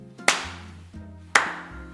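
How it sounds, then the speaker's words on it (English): Slow, deliberate clapping in a film scene, just two sharp, isolated claps about a second apart over a low sustained musical tone, close and distinct with no voices. "We get the slow clap"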